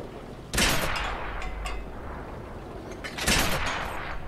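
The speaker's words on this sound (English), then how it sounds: "Ready to fire on target." Tank guns fire in World of Tanks, two loud booming shots a few seconds apart, each a sharp blast with a rumbling decay, heard alone without talk.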